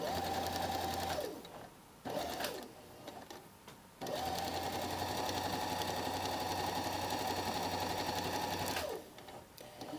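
A sewing machine stitching a jacket sleeve while the elbow is eased to the undersleeve, running in steady close bursts with short pauses between them.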